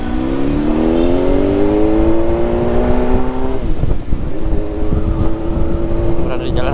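Motorcycle ridden on a city road at midday, its engine a steady loud drone with rising and settling pitch, wind rush throughout and a brief dip midway as revs shift.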